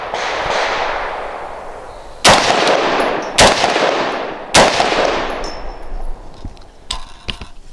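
A Patriot Ordnance Factory Puritan rifle fires 5.56 rounds outdoors, three loud sharp cracks spaced about a second apart, each ringing into a short fading echo, with faint clicks and handling noise afterward.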